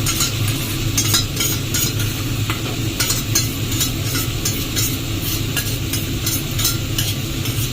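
Marinated chicken frying in a pan, a steady loud sizzle with regular scrapes and clinks of a utensil stirring through it, no voices over the cooking.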